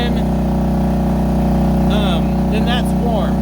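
The small pony starting motor of a John Deere R diesel tractor idles through a cold-start warm-up, a loud, steady, close engine drone with someone talking over it.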